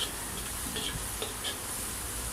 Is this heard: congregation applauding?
no